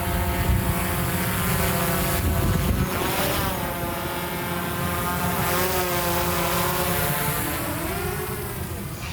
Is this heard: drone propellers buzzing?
yes